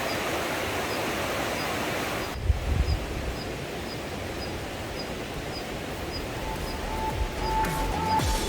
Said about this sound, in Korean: 여기도 물소리가 엄청나군.